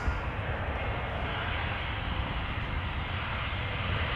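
EasyJet Airbus A320 arriving at Amsterdam Schiphol, a loud, steady, close jet roar with deep rumble sustained evenly from start to finish, no voices.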